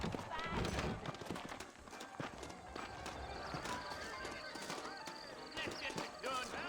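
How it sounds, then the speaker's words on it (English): Horses in a Red Dead Redemption game scene clip-clop on hooves and neigh and whinny repeatedly, the sounds layered over ambient game audio and background music at steady loudness, with occasional voices. "I got the horses saddled up and ready out front."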